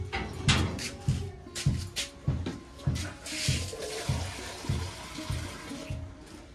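Water splashing and pouring in rhythmic bursts as feet are washed outdoors, with roughly a dozen regular sloshes over several seconds, moderately close and loud.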